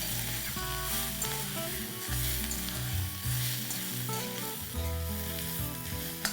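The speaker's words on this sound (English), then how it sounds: "And now we'll continue to fry it till it's nice," Sliced onions fry in oil in a kadai, a steady dense sizzle with bubbling crackle running throughout, close and fairly loud, with no talking.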